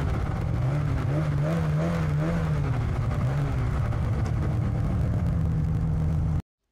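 A snowmobile engine runs steadily and close, a loud continuous drone with slight wavering pitch, ending abruptly.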